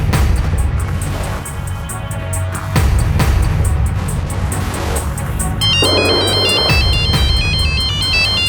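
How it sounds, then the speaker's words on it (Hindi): Mobile phone ringtone chirps in a loud repeating electronic pattern in a hospital setting, beginning partway through over steady busy background noise, with no one talking. "अंजलि का फोन है।"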